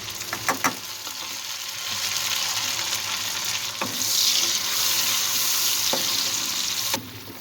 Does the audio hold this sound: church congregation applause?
no